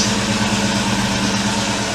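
A car engine idles steadily just after starting up following two weeks of sitting, giving a close, even low rumble with a regular pulsing beat and no voices over it.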